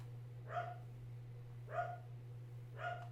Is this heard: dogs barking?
yes